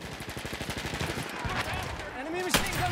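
Rapid enemy machine gun fire in Battlefield 1, a dense rattling burst of evenly spaced shots running throughout, loud and close, with a sharp crack near the end and a voice briefly audible.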